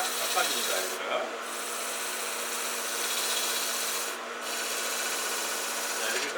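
A chisel on a wood lathe cuts a taper on a bowl lid with a continuous scraping, rasping hiss. The cut breaks briefly twice as the tool lifts off the spinning wood.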